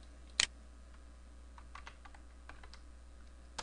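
Sparse typing on a computer keyboard, with one sharp key strike near the start followed by scattered soft, close keypresses at an uneven pace in a quiet room.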